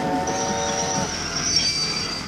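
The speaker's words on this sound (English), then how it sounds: "The train sounds urgent." A tugboat-harbour train sounds a long steady horn, loud and sustained over rumbling background, with no talking.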